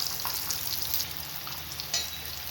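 Gram flour bondas deep frying in oil over a low flame give a soft, steady sizzle and hiss, fairly quiet, with a few faint crackles and no talking.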